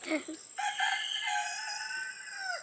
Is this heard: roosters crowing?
yes